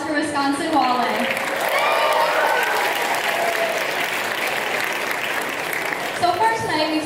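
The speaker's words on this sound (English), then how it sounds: "round of applause for Wisconsin Wale" Loud, sustained applause from a crowd at a livestreamed dance event, with voices and cheers mixed in, swelling at the start and fading near the end.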